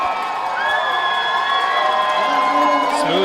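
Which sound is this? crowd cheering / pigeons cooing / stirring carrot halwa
crowd cheering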